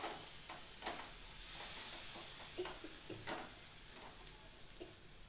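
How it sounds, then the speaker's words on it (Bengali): Spice-rinsing water poured into a pan of masala and potatoes for an omelette curry, a soft steady sizzle with scattered crackles and light stirring clicks, faint and close, no voices. "এবার মশলা ধোয়া জলটাও আমি দিয়ে দিলাম।"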